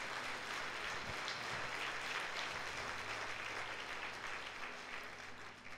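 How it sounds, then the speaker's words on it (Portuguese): A church congregation at a Sunday service applauds in a sustained, even wash of clapping that fills the room from start to finish, steady and moderately distant. "Pode dar um aplauso a Jesus se você recebe."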